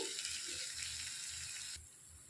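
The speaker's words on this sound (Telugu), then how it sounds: "జార్లోనికి కొద్దిగా వాటర్ పోసేసుకోవాలి." Water pours steadily into a blender jar in a home kitchen while cooking capsicum masala gravy, a continuous close rushing splash that eases off near the end.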